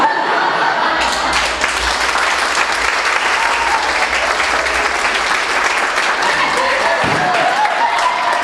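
An audience at a gospel sing-along breaks into loud, sustained applause that swells and stays dense for several seconds, with a little laughter mixed in.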